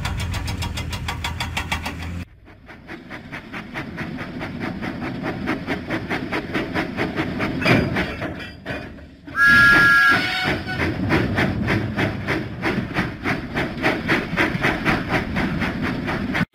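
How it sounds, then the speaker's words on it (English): Thomas the Tank Engine chuffs along in a children's video game, a steady, rhythmic huffing and puffing train beat that carries on with a brief pause midway. "Huffing and puffing, Thomas set out for Farmer McCall's farm."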